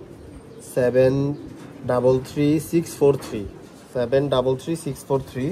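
A prize-winning racing pigeon in a loft coos in several close, throaty bursts, with someone talking nearby between and over the calls.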